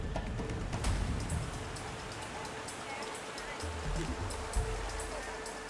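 A river running with a strong current during heavy rain, a broad steady rush of water heard at a moderate distance, with faint voices underneath.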